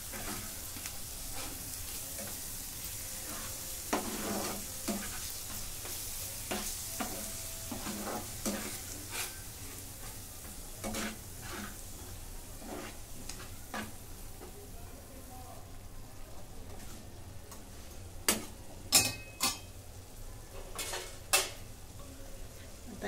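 Masala for a tawa egg curry gets stirred and fried in a pan with a soft sizzle, punctuated by scattered scraping clicks of a spoon against the metal, some sharper near the end.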